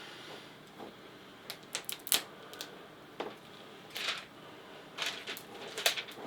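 Protective film being peeled off the screen of a piXL CM24F31 24-inch HD monitor, giving a string of sharp crackling ticks and short tearing bursts in quick, uneven clusters, fairly close and quiet, with no talking.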